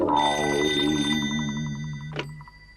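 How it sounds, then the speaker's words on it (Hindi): A cartoon telephone rings with a bright electronic bell tone, a sustained ringing pattern that fades out after a couple of seconds, heard alone in a Hindi-dubbed animated episode. "अब मैं उसे फोन करके पूछता हूँ।"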